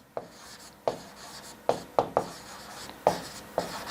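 Chalk or marker strokes on a board during a maths lesson on relations and functions, a series of short tapping scratches at an uneven rhythm, close and fairly loud, with no talk over them.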